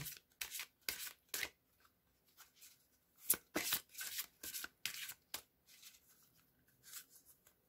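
Tarot cards being shuffled for a reading, a run of crisp riffling and flicking bursts with short pauses between them, close and fairly quiet with no talking.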